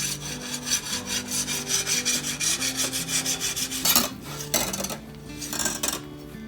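A knife slices meat held in a Cabela's jerky cutting board at a quarter-inch thickness, making rapid rhythmic sawing strokes under steady background music, close and fairly loud, with no talking.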